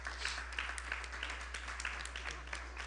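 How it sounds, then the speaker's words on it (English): Faint applause for a birthday at a Sunday temple service, a scattered, distant crowd clapping steadily for a few seconds under a low hum. "give her a round of applause as well"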